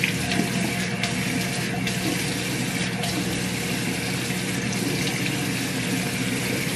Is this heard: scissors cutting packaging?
no